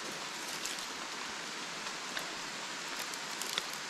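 Light drizzle falls outdoors in a steady soft hiss, with faint scattered drop ticks over the wash and no talking.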